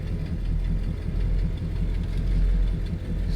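A 1979 Chrysler Cordoba sits with its engine loaded against the torque converter before launch, giving a steady low rumbling drone with slight knocking pulses, close and continuous.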